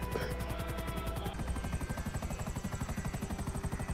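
A helicopter in the video game GTA 5 thumps with a rapid, steady rotor beat over a whining engine drone, close and continuous, with the pitch shifting slightly partway through.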